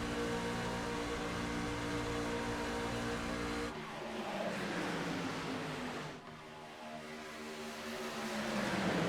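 Racing trucks in a video game roar around the Talladega superspeedway, a continuous loud engine drone from on board that dips and rises as the pitch shifts, with no talk over it.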